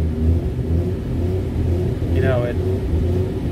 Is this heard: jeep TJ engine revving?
yes